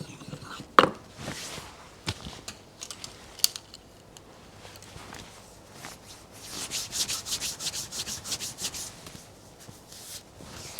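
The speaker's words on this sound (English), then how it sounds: "We don't need a major sharpening, but we need to touch up the tip." The tip of a woodblock printmaking carving knife is touched up on a sharpening stone, giving close, dry scraping strokes. Scattered rubs turn into a steady rhythmic run of back-and-forth passes toward the end, with no voices.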